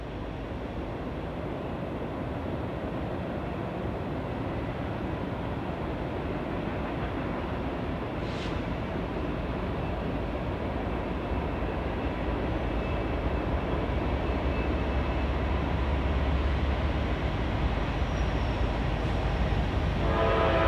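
A Norfolk Southern freight train on the Chicago Line near Bryan approaches with a steady, broad rumble that slowly builds in loudness, with faint brief horn-like tones far off and no voices.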